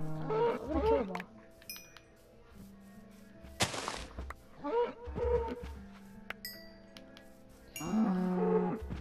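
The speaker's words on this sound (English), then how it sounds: "There's like 20 cows over here." Cows in Minecraft moo in several distinct calls spread across the scene, moderately close, with a sharp burst and game sounds between them.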